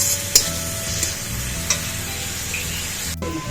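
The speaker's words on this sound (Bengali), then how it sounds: "গাজরটাতে নুন হলুদ তো দিয়ে নিয়েছি এবার একটু নেড়ে ঢাকা দিয়ে দেবো" Carrots seasoned with salt and turmeric frying in a pan, with a steady low sizzle and a few sharp scrapes of a spoon stirring them, close and continuous with no talking.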